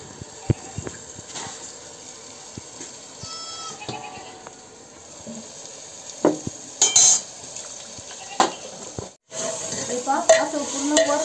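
Rustic chicken curry cooks in a pot on a wood-fired chulha while a spoon stirs it, with soft sizzling, scraping and occasional clinks against the pot. The sounds are close and moderately quiet, and nobody speaks.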